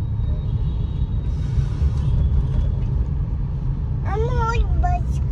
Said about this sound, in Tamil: ஒயிட் பஸ் இல்லை, அது லாரி.